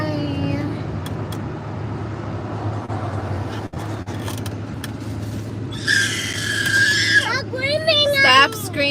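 A young child screaming in shrill wavering bursts near the end, over a constant low rumble of a vehicle interior, with someone talking earlier in the stretch.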